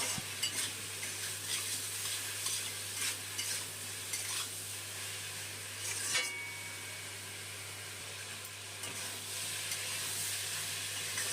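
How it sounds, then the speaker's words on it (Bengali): Spices and ridge gourd are stirred and fried in a pan, with a steady sizzle and repeated scraping of a spoon against the pan over a low constant hum, with no talking. "এখন সব মশলাগুলো ভালো করে ঝিঙের সাথে কষিয়ে নেবো"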